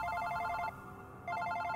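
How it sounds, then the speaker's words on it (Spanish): A telephone rings in the Wii game Super Paper Mario, a bright repeating electronic ring tone in two bursts separated by a short gap, fairly quiet and heard alone. "espera, ese es mi teléfono."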